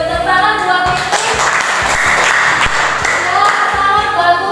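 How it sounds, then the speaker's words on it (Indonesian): Classroom of students applauding a classmate, loud dense clapping from many hands sustained throughout, close and energetic. "Tepuk tangan buat Fitri."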